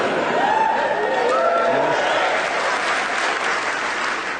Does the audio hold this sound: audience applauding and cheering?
yes